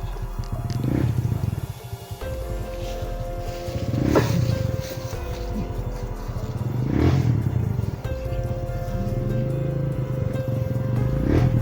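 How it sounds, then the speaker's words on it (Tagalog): A motorcycle engine revving and roaring nearby, with loud swelling throttle bursts repeating over a steady rumble. "May motor, may motor."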